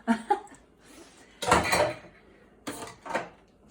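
A kitchen knife drops into a bowl with sharp metallic clanks, several clattering hits spread over a few seconds, close and fairly loud.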